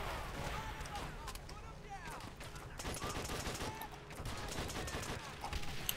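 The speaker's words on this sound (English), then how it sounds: "So the enemy artillery is being called in" Enemy artillery and dense gunfire rumble through a Call of Duty: World at War battle, a steady barrage of overlapping shots and blasts with no break.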